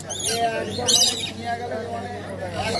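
Exotic pet birds, including lutino and blue and silver pairs, call from cages at the Serampore pet market: shrill chirps and squawks rise in bursts over a busy background, with people talking nearby.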